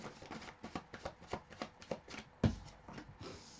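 Tarot cards are shuffled close up in a quiet room, a rapid run of soft riffling slaps in steady rhythm, ending with a firmer tap as the deck is set down.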